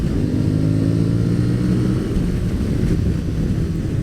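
An Aprilia Tuareg motorcycle engine rumbles steadily at close range, its low harmonic drone shifting slightly in pitch as the throttle is worked.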